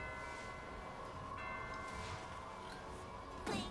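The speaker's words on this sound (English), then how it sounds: "Ring the bell." A bell rung repeatedly in the video game A Hat in Time, its tones ringing faintly and sustained, with a brighter struck sound near the end.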